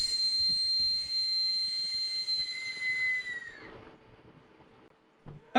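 A piercing, sustained high-pitched shriek from a 3D-printed Aztec death whistle, loud and steady for several seconds before cutting off abruptly, like a harsh scream.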